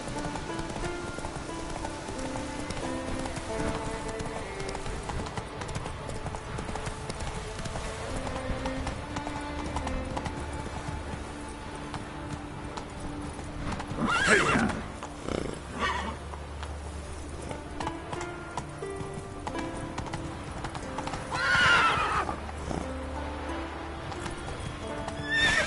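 Roach the horse gallops in The Witcher 3, with steady clip-clop hoofbeats throughout, a couple of snorts or whinnies, and soft rain and background music underneath.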